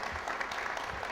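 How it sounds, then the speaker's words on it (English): A live audience at a networking talk in Denmark claps in a brief, steady wash of applause. "Give them a round of applause."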